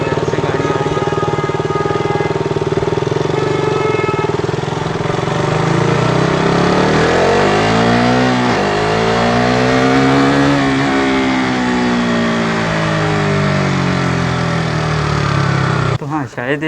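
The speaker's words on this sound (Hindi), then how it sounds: "ऐसे गाड़ी आ रही है" A car drives past on a road, its engine tone rising and falling as it nears and moves away, loud and close against a steady engine hum.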